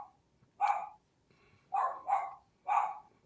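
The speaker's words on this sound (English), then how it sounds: "Sorry for my dog." Dog barking indoors in four sharp, fairly loud barks, the first alone, then a quick pair and a final bark, with short silences between and no talk.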